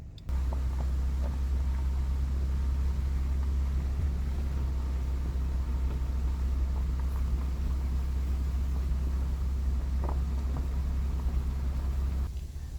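A car drives along a logging road, giving a continuous low rumble of engine and tyres with faint rattles and bumps, steady and close throughout from inside the vehicle.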